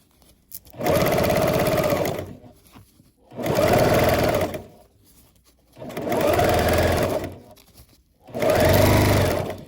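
A sewing machine stitches through Velcro on a weighted heat massager cover, running loud and close in four steady whirring bursts of about two seconds each with short quiet gaps between.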